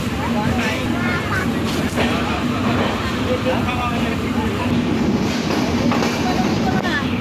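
Train pulling out of a station, a steady rumbling roll with faint rhythmic clatter heard from on board, loud and continuous under background voices.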